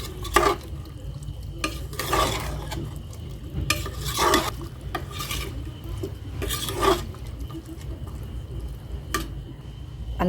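Brinjal and chana dal being stirred with masala in a pan, repeated scraping and rasping spatula strokes at an uneven rhythm over a soft continuous sizzle, close and fairly loud.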